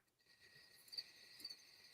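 Cricket chirping sound effect: faint, steady high-pitched trilling that pulses gently throughout, alone with no talking.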